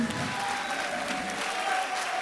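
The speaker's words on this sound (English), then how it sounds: "Let's give him a round of applause." An audience at a spring band event applauds a volunteer, Miles Spearman, called up on stage, a dense and even wash of clapping that holds steady throughout without voices.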